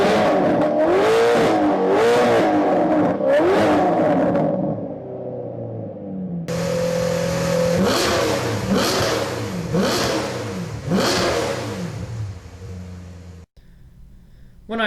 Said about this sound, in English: when my car revs compared to cars with the factory mufflers, it is such a sharper tone